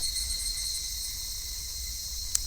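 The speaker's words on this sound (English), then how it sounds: "the game like revolves around the cicadas" Cicadas drone steadily through a summer scene in the Higurashi When They Cry video game, a continuous high-pitched insect buzz held throughout with a brief bright click near the end.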